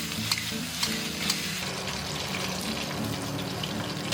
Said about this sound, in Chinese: 我们先放入这些鸡腿炸哈，中小火炸